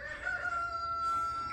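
Backyard chickens in a garden, a rooster crowing with a long drawn-out call over softer hen clucking, close and clear with no talk.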